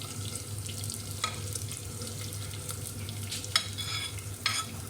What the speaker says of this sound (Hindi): इसी ऑयल में अब हम प्याज डाल देंगे